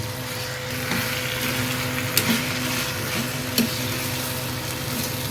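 Ground masala of roasted dry coconut sautéed in a pan, with a steady sizzle and occasional sharp clinks of a spoon against the pan, close and moderately loud.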